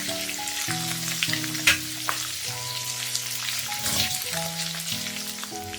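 Spice masala for a prawn malai curry sizzles and fries steadily in a pan, with a bright, continuous hiss of frying and occasional stirring scrapes, close and fairly loud, alone without voices.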